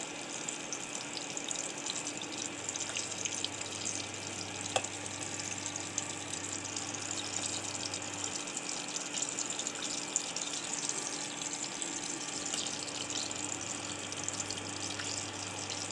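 Whole spiced shrimp fry in a pan over a very low flame, giving off a soft, steady sizzle over a constant low hum, with no breaks.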